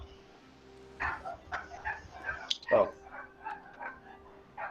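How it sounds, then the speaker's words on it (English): Dogs bark and yelp in a scuffle, sharp repeated barks and whimpers bursting out over a few seconds, heard faintly behind a person talking. "Because the dogs are fighting to death right now"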